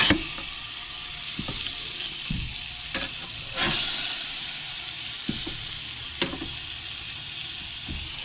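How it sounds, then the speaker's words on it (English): Burgers sizzling on a grill in a van just after being flipped, a loud continuous hiss and sizzle punctuated by several sharp crackles and pops, with no speech. "Okay, we're gonna flip. Change the grill marks."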